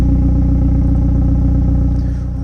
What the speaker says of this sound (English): The car currently is idling